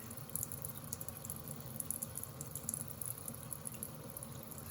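Steady stream of tap water running into a sink, a continuous broadband splashing hiss with no talk, fairly quiet and even throughout.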